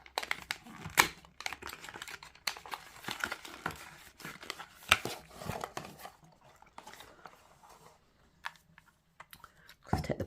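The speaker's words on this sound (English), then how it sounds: "Let's take the plastic off." Plastic wrap being peeled and crinkled off a tarot card deck: soft, irregular crackling and rustling close by, busiest early and thinning toward the end, fairly quiet and with no speech.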